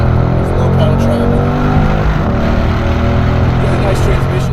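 A 2019 Mercedes-AMG C63 S with a nine-speed multi-clutch transmission drives a lap on a race track. The engine gives a loud, steady roar under load that continues throughout, and voices talk over it.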